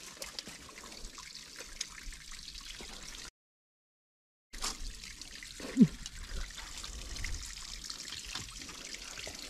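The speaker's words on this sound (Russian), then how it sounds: "Ну что, будем ванну наполнять" Water trickles and splashes faintly into a tub, with a brief gap of silence midway and soft background noises.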